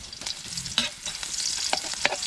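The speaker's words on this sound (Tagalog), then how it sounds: "Magigisa po ulit ang sardinas." Garlic and onion sauté in a pan, a close continuous sizzle broken by scraping stirs, with no talking.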